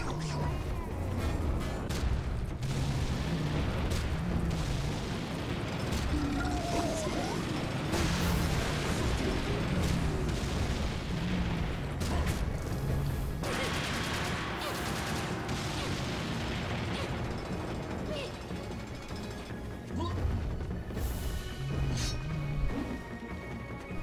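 Cannon fire and heavy combat in the shooter game Serious Sam 2 during a boss fight, with repeated booms, crashes and mechanical clanks in a dense, loud barrage, and someone talking over the action.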